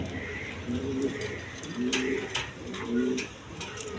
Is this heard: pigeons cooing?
yes